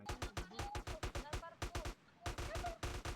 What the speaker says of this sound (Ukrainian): Знову постійно чути якісь постріли